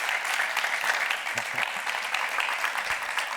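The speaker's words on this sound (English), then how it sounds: "If we could just close out the evening with a last round of applause for him and for all of you." An audience closes an evening event with a final round of applause, an even, continuous wash of clapping at moderate level.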